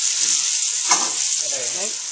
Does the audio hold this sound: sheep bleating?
no